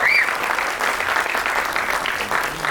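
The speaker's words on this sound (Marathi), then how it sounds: "एकदा सगळ्या टीमसाठी जोरदार टाळ्या होऊन जाऊ दे" A crowd at the trailer launch of the Marathi film Bhootam Bhayyam breaks into a short, dense burst of applause honouring the film team, with a brief whistle at the very start.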